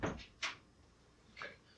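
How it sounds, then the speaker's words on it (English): A door or cupboard bumps shut nearby, then a couple of faint knocks and creaks follow in a quiet room. "Close the door."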